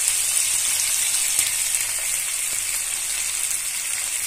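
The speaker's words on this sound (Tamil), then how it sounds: "இப்போ பாருங்க வெங்காயம் குடமளகா சேத்தோம். ஒரு முட்டை இப்போ சேர்த்து நல்லா கிளறிக்கலாம்." Onion, capsicum and egg sizzling and frying in a pan, a steady close hiss with faint stirring scrapes and no talking.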